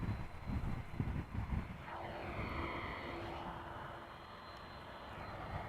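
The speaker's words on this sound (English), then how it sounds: "Appears to be a twin jet as well." A twin-jet airliner passes over Amsterdam Schiphol Airport as a steady, distant roar that swells gently, with no voices.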